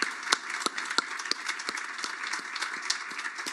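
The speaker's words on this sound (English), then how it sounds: "just ask just a really big round of applause" A crowd applauds steadily, with sharp individual claps standing out above a dense, fairly loud clapping texture throughout.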